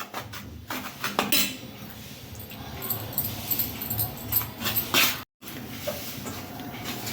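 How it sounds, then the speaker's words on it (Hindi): A spoon scrapes and clinks against a metal bowl while stirring flour sprinkled with milk for barfi, uneven close-up scraping and knocks with brief pauses. "चम्मच से इसको इस तरह से हम चलाते जाएंगे"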